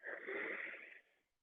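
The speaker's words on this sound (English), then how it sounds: "Breathing in and exhale" A deep yoga inhale through the nose and mouth, one long airy breath close to the microphone, loud and steady for about a second before trailing off into quiet.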